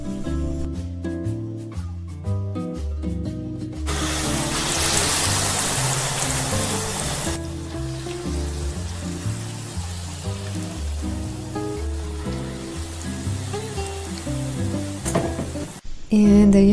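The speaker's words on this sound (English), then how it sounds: "Coat the potatoes with the flour mixture and deep fry it until golden brown." Potato tornado skewers deep fry in hot oil, giving a steady bright sizzle and crackle that swells loud partway through, heard beneath background music.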